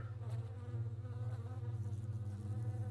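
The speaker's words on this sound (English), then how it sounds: "there's a fly in here!" A fly buzzes close by in a steady, droning whine that wavers slightly in pitch, faint overall and heard alone without any voices.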